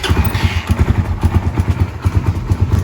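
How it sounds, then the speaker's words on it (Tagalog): A Suzuki Raider 150 Fi motorcycle engine runs just after an oil change, idling close by with a steady, rhythmic low thumping and light mechanical clatter throughout. "Pwede na nating pa-start yung motor para mag-circulate yung langis."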